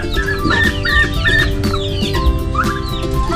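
Young backyard chickens cluck and chirp in a close, busy chorus of overlapping short calls over a low background rumble, with no talking.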